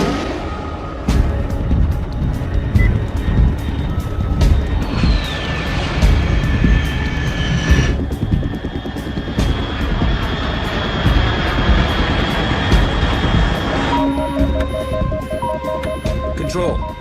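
An unidentified aircraft flies high and fast in Metal Gear Solid 3: Snake Eater 3D on the Nintendo 3DS, a loud sustained jet roar with whining tones that shift pitch, mixed with mechanical clicks and game effects.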